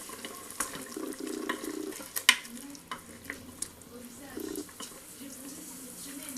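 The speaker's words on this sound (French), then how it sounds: "je vais juste le mélanger un petit coup" A dish with Maroilles cheese is stirred briefly in a cooker, producing soft, close scraping and squelching strokes with a few sharp clinks over a low background hiss, and a voice speaks over it.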